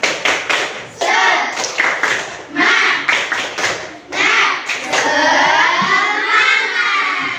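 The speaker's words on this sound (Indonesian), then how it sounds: "kita tepuk semangat ya" Students in a classroom perform a rhythmic spirit-clap cheer, tepuk semangat, with bursts of group clapping in patterned beats alternating with shouted chants, ending in a long loud group shout.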